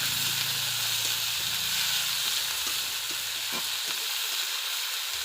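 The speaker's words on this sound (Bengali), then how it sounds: "মধ্যে আমি টমেটো পেঁয়াজটা তুলে দিলাম। এটাও লাল লাল করে ভেজে নিতে হবে।" Tomato and onion sizzle in a hot pan, salted so they soften faster, with a continuous hiss broken by soft scraping taps of stirring that thin out toward the end.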